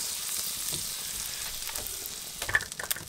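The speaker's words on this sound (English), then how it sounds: "We're putting quite a bit of butter in there because it kind of acts as the base of the sauce." Butter sizzles and crackles in a hot pan as the base of a sesame chicken sauce, a steady close frying hiss with a few louder pops near the end and no talking.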